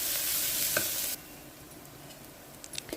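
Ginger-garlic paste and a handful of mint fry loudly in a pan for mutton curry, a strong close sizzle that suddenly drops to a quiet simmer, followed by a few light clinks of stirring.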